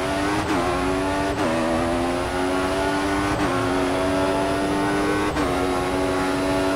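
A Formula 1 car in the F1 2014 game at Bahrain International Circuit accelerates hard, its high engine whine climbing steadily and dropping sharply at each of four quick gear shifts, loud and continuous with no talk.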